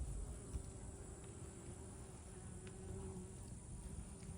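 Honey bees buzz at an open hive during a hive check, a steady low droning hum from many insects that stays constant, fairly faint and close, with no talking.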